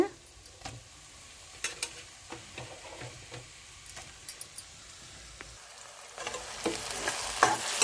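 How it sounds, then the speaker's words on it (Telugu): Onions and tomatoes fry in a pan over a coal stove for a farm chicken curry, a low steady sizzle broken by irregular clicks and scrapes of stirring, growing louder near the end. "ఇప్పుడు టమాటాలు వేసుకుందాము అవి కూడా వేగిపోవాలి టమాటాలు కూడా వేగిపోవాలి"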